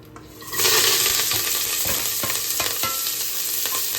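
Grated coconut goes into a boiling pan on the stove, raising a sudden loud sizzle and bubbling hiss, followed by steady scraping stir strokes near at hand with no talking.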